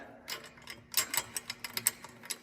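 A cheap, loose-fitting 10 mm wrench spins freely around a fastener, producing a quick run of light metallic ratcheting clicks, close and fairly quiet, with no talk.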